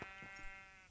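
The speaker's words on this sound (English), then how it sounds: "Oh, sheep." Sheep bleating in a Minecraft-style blocky survival game, one short, close, sustained bleat with a steady nasal harmonic tone under faint background sound.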